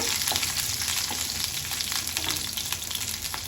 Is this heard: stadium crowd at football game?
no